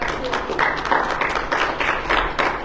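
A church congregation applauds together in steady, continuous clapping that holds at a moderate level throughout, with no voices standing out above it.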